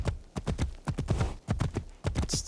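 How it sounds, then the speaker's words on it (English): A horse gallops in the Assassin's Creed Shadows video game with a steady, rapid beat of hooves close by. Faint background sound runs beneath the hoofbeats. "Nagato holds Naoe as he rides his horse."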